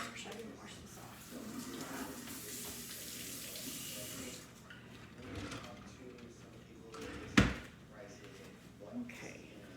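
A kitchen tap runs over a Roma tomato being washed for strawberry cucumber mint salsa, a hissing stream of water that swells then eases, with a sharp clatter near the end and a voice speaking over it.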